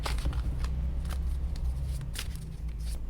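Tarot cards are shuffled by hand up close, a series of soft riffling and sliding bursts repeating irregularly over a low background hum, with no talking.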